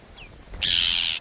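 A short bird call sounds outdoors in cloudy Icelandic countryside: a faint brief note comes first, then a loud sustained cry lasts about half a second, set against quiet wind.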